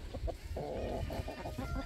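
Several chickens cluck nearby in short, overlapping bursts, with one drawn-out squawk in the middle.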